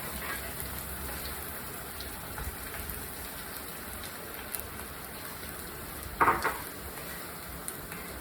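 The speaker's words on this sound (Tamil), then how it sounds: "இந்த ரவையை நம்ம ஸ்லோவாக இதில் போட்டு அப்படியே வதக்கலாம்." Semolina (rava) sautéing slowly in oil in a pan for upma, a soft steady sizzle and faint grainy rustle, with one brief louder scrape of stirring near the end, no voices.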